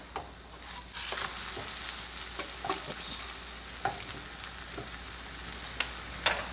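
Rehydrated freeze-dried eggs fry in a pan with a steady, close sizzle, broken by scraping and stirring clicks from a utensil, with no talking.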